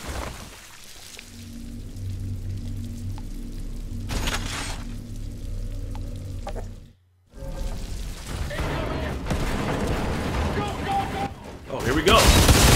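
Gunfire from a stronger gun in the video game Outriders, loud bursts crackling over a busy game soundscape, briefly dropping out before resuming heavier toward the end.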